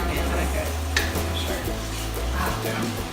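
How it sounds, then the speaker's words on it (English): Food is tossed and stirred in a frying pan while a holiday dish is cooked, with a steady close sizzle under soft scraping and clinks of the pan. "Just kind of toss, like a nice little toss, just so they get covered."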